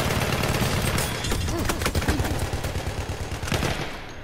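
A rifle fires on single-shot mode in the first-person shooter Battlefield 1: close, loud, rapid cracks follow one another in a dense burst with little pause between them.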